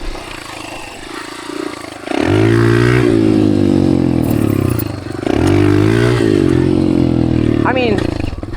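A dirt bike engine revs hard and loud out in the desert, holding two long strained pulls with a brief easing between them and a short squeal near the end.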